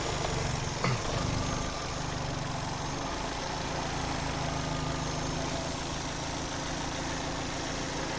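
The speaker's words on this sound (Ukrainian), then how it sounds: "Ось робота двигуна." A 2010 Opel Zafira with a 1.6 MPi petrol engine idles under an open bonnet, giving a steady, even hum with a faint brief knock near the start and no talking.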